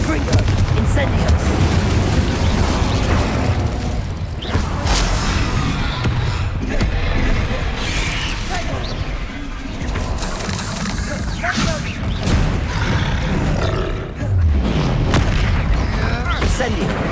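Spell blasts from Confringo and Bombarda in the Hogwarts Legacy video game: loud, dense booming impacts and bursts repeating throughout a hectic combat mix, with a voice shouting during the fight.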